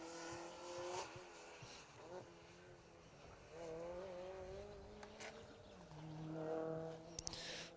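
A rally car runs on an asphalt stage of a rally championship in Argyll: engine revs climb and drop through gear changes, with a faint tire squeal and a commentator talking over it.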